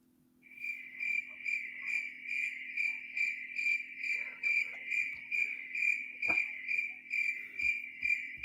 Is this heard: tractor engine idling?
no